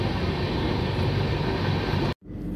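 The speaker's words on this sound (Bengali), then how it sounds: "ট্রেনটা এখন দারুণ স্পিড তুলেছে।" The Santragachi AC Superfast Express running at speed, a dense continuous roar and rumble of the train that cuts off abruptly near the end before a quieter rush resumes.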